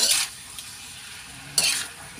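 Food frying in a pan is stirred with a utensil in two short scraping, sizzling bursts, quiet and close, separated by a softer sizzle.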